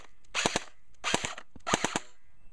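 An AEG airsoft gun fires three short rapid bursts, each a quick rattling string of shots separated by brief pauses, close and sharp with no talking.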